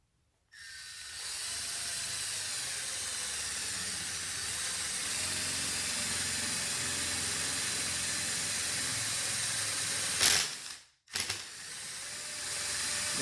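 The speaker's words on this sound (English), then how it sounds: "Continue to drill." A power drill drilling out rivets on a Chevy C10 pickup runs steadily with a loud, continuous whirring hiss for about ten seconds, cuts out briefly, then starts again.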